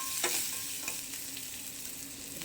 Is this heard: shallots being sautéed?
yes